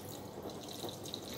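Cold water pours into a glass for mango shake in a brief, soft, continuous splash and trickle.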